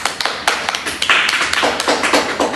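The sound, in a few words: audience round of applause for panel guests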